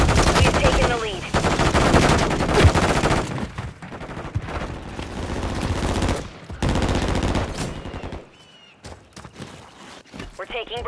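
Rapid automatic gunfire rattles in a Call of Duty multiplayer match, dense bursts for several seconds that thin into scattered shots, mixed with game voices and sound effects.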